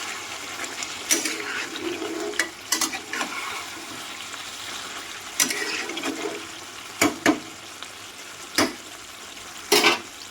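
Chicken curry meat being stirred in a pot, with a soft simmering sizzle underneath and sharp scraping and clattering bursts from the spoon at irregular intervals.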